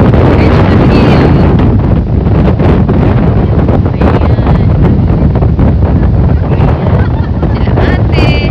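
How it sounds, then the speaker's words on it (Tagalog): Strong wind on Edgemont Hill in Toronto batters the microphone, a loud continuous roar and rumble lasting throughout with no clear speech. "Masyado mahangin dito sa Edgemont Hill."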